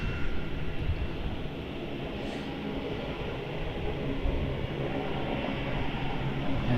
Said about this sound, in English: There's a Rex 340 Saab 340B. Listen to that sound.